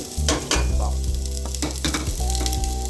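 Chopped garlic sizzles in hot oil in a pan, a loud, continuous crackle close up with occasional stirring scrapes and no voices.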